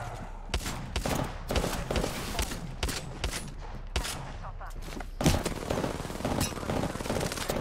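Rapid automatic gunfire bursts from the battle royale shooter Apex Legends, loud and close, with repeated volleys and a heavier thump near the middle while someone talks over the shooting.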